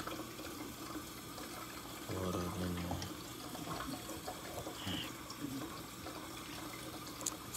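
Water running and splashing steadily into a cup nearby, poured to soak dog food oats, with a brief louder gush partway through and faint background noise.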